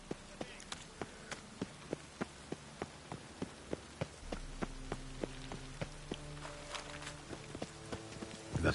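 Steady rain in the video game The Witcher 3: Wild Hunt patters over a surface while regular ticking clicks keep time and low tones hum beneath, with a faint voice briefly present.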